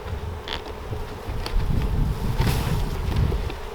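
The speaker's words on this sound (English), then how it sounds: "These bees are probably very angry." Honey bees buzz in a dense, continuous hum while being shaken from a hive for a powdered-sugar varroa mite check, with wind rumble and faint handling noise underneath.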